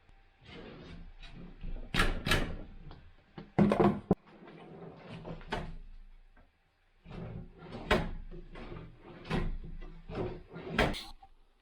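Several wooden clunks, knocks and scrapes come from fitting a CNC-milled drawer front onto a workshop cabinet for a milling machine table, in irregular bursts with a quiet gap midway.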